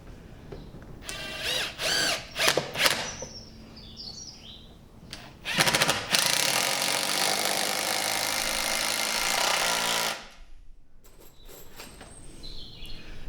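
A power drill drives screws into a larch raised-bed joint: several short whirring bursts, then one long, loud, steady run lasting about four seconds, close by, with quiet handling sounds between.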